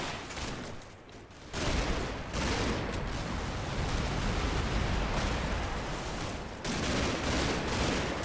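Dense gunfire in the WWII combat game Combat Mission: Battle for Normandy, a loud continuous fusillade of overlapping shots with a short lull near the start before the volley resumes.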